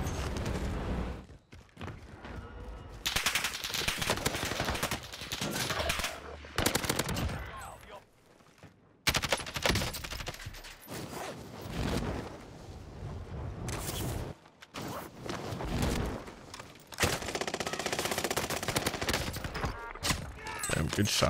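Rapid automatic gunfire bursts and single shots from the video game Call of Duty: Warzone, loud and dense, recurring in clusters through a chaotic firefight with a player talking over it.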